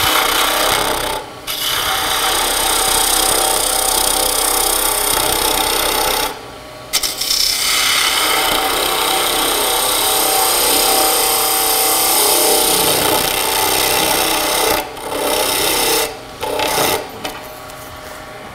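A gouge cuts into wood spinning on a lathe while a toy top handle is shaped, a steady rasping scrape broken by a few short pauses as the tool lifts off.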